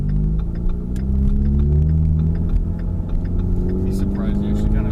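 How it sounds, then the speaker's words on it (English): Ford Mustang EcoBoost engine and exhaust drone steadily from inside the cabin during a smooth downshift into first gear, a continuous low rumble with a slight rise in pitch near the end, and a voice speaking over it. "I like how smooth the downshift is to first."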